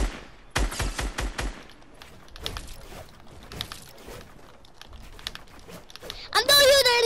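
Rapid bursts of video game gunfire crackle at the start, followed by scattered shots and clatter beneath excited children's chatter, ending in a loud burst of game sound effects.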